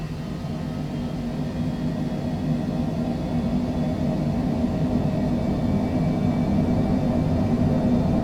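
Citation Longitude business jet engines spooling at full takeoff power in a flight simulator, a steady, loud, broadband roar with a low rumble that holds constant throughout, no voices.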